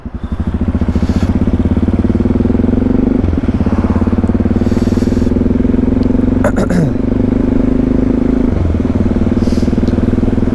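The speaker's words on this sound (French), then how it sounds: "La moto sans chicane, elle fait pas de bruit." A Yamaha MT-03 660 motorcycle ridden without its exhaust baffle gives a loud, steady engine drone with a rapid pulsing rumble throughout, a couple of brief dips as the throttle shifts, and wind noise over it.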